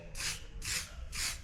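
A small spray can applying a third coat of coating in a paint booth: three even, close hissing bursts, each lasting about a third of a second, separated by short pauses.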